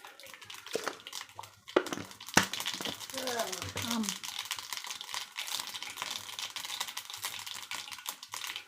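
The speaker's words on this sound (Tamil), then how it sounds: "கடுகு நல்லா பொரியட்டும்." Mustard seeds splutter in hot oil while tempering a spicy chutney, a fast irregular crackle of small pops with a couple of sharper bursts, heard close and under a talking voice.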